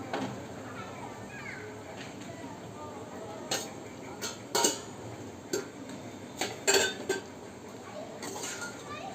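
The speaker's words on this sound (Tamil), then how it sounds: "ரைஸ் வந்து இப்போ நான் பொட்டேட்டோவோட மிக்ஸ் பண்ண போகிறேன்" Rice being mixed with potato in a pan, a spoon tapping and scraping against the metal in irregular clinks, close but moderate over a steady background hiss.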